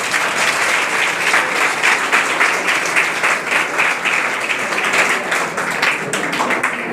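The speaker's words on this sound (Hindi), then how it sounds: "और पुनः ताली बजा दें" Audience at a yoga and anti-addiction awareness gathering in Dhamtari claps steadily and loudly throughout, a dense continuous applause from a large seated crowd with no talk over it.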